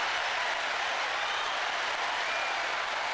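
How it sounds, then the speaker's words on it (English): Steady applause from an audience after a talk on being present, a continuous dense wash of clapping at moderate level with no speech. "Give him a big round of applause."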